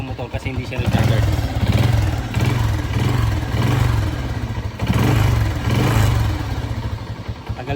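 A Motorstar 125 motorcycle engine is revved repeatedly in a workshop, rising and falling in several surges close to the microphone.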